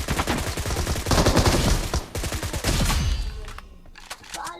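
Rapid automatic gunfire in the BGMI battle royale video game, loud, dense bursts of shots in quick succession that come in several volleys before thinning out near the end.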